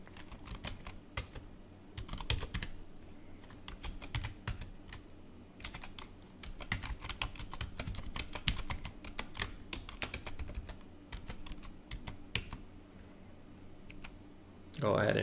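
Keys clatter steadily on a computer keyboard as administrator credentials are entered during domain controller setup on a workgroup computer, irregular clicks running throughout at close range with a voice speaking over parts of it.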